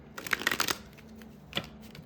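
Tarot cards are shuffled in a quick, close riffle lasting under a second, followed by a single softer card flick, with no talking.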